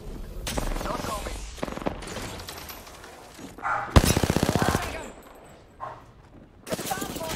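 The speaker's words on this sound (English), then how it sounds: "The bomb boss is shooting at me." Enemy gunfire in a shooter video game, rapid bursts of shots with a loud dense volley near the middle over game effects and a player talking.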